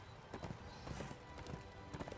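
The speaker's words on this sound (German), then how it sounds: "Komm, wir rufen mal gerade mein Pferd." Rhythmic hoofbeats clip-clop at a quick gallop over a dense, steady background wash, the pounding repeating evenly throughout, from a horse in the video game Darksiders 2.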